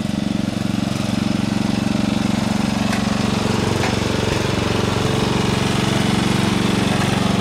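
A tractor engine chugs close and loud with a rapid, throbbing beat while its tires spin, and the rumble holds steady throughout.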